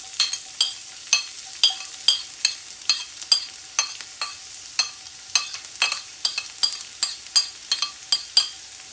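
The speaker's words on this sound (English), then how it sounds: "we're ready to put the garlic and onion combination into the cast iron pan" Garlic and onion frying in olive oil in a cast iron pan, a quiet continuous sizzle broken by about twenty sharp utensil scrapes and taps in a steady stirring rhythm, close and with no speech.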